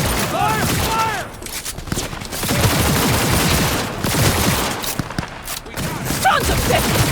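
Rapid gunfire in Cyberpunk 2077, dense bursts and booms during a combat firefight, loud and continuous, with shouting voices mixed in.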